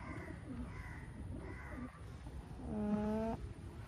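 Pigeon cooing near a stair-step outside a loft, a few soft coos followed by a longer, clearer call, alone over steady background hiss.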